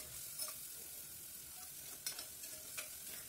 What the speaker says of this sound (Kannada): ಇವಾಗ ಈರುಳ್ಳಿ ಹಾಕಿದ್ದೀನಿ, ಈರುಳ್ಳಿನೇ ಫ್ರೈ ಆಗಲಿ.